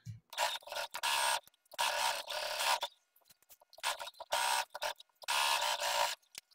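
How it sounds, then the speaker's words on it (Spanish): A sewing machine stitches pocket lining to trousers in four loud, close bursts of rapid whirring, each a second or so long, separated by short pauses. "voy a coser con el fondo de bolsillo por abajo y el pantalón por arriba"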